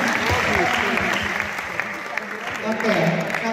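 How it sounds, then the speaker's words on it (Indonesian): Students on a campus visit applaud together, a sustained wash of clapping from a crowd mixed with voices talking over it throughout. "Ini teman-teman boleh tepuk tangan dulu"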